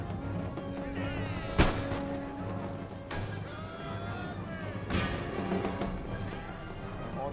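Artillery shells firing in Empire Total War: two sharp booming cannon reports several seconds apart, standing out over a steady bed of battle ambience and music, moderately loud and fairly close.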